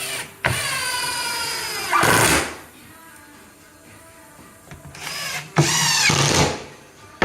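A power drill driving screws into kitchen cabinets, two bursts of whirring motor a few seconds apart, each ending in a louder, rougher grind as the screw seats, with quieter workshop pauses between.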